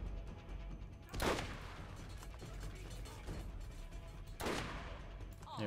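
Grenades exploding in the video game Borderlands: a faint ongoing rumble of gunfire and bursts, broken by two sharper blasts spaced a few seconds apart.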